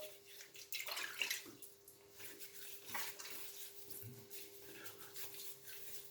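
A shaving brush is swished and dabbed in a bowl of warm water, producing soft, faint sloshing and dripping sounds in a quiet room.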